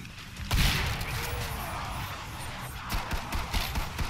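Shotgun fire in the video game Killing Floor 2: a sudden blast, then scattered shots and rattling game noise. The whole scene is fairly faint.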